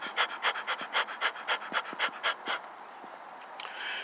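A voice imitating a dog panting: quick, rhythmic breathy huffs in a steady series of about a dozen, close and clear, trailing off into quieter breaths.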